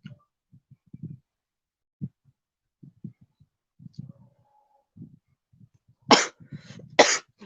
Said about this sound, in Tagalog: Inuubo ako eh.